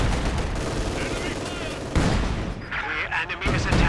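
MG-42 machine gun fire in the video game Company of Heroes 2, rapid bursts rattling out amid battlefield booms and effects, with a commentator's voice partly running over the gunfire.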